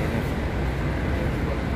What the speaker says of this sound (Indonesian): Ini LRT bawah tanah teman-teman.